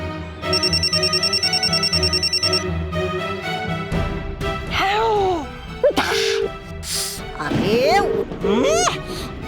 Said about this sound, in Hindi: अरे ये किसका फोन आया?